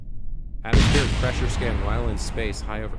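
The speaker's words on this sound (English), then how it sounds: "That was the sound of the chute droguing." A parachute drogue deploys in the Kerbal Space Program video game with a sudden loud boom-like burst, while a voice keeps talking over it.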